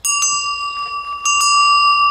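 Small bells meant as raffle prizes ring out sharply several times, clear bright strikes with long ringing tails, close and loud with no talk over them.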